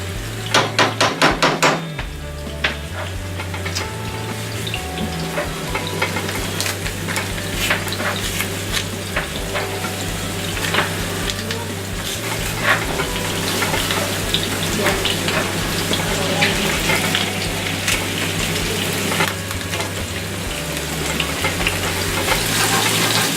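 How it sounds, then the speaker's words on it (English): Sazon Goya seasoning is stirred into a sizzling seafood paella pan, with continuous frying hiss, scraping and clanking utensil strokes, and a low humming drone beneath. "Right now, I am stirring the Sazon Goya"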